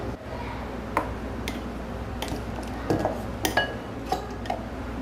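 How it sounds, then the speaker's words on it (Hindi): Ground moong dal paste is scraped out of a grinder jar into a bowl, with scattered metallic clinks and taps of a spoon against the jar over a quiet kitchen background. "तो अब इसको एक बाउल में निकाल लेते हैं।"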